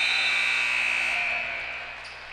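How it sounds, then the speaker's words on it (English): A buzzer sounds at a women's college basketball game in a gym, a loud sustained electronic tone that holds steady then fades near the end, over faint crowd noise. "we do have a foul called on Alexander at the buzzer"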